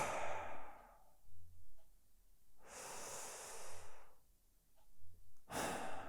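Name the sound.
slow deep breathing during meditation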